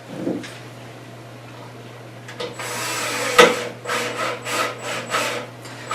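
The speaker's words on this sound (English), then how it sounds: "I've already got my screw, so we can get our screw in." A screw driven into a wooden panel for a European skull mount, heard as a burst of scraping, rasping turns in uneven, rhythmic strokes, close and fairly loud.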